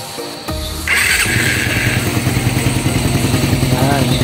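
A Raider 150 motorcycle fitted with a dome piston starts up with a quick cranking burst, then settles into a loud, close, rhythmic idle with a faint high whine.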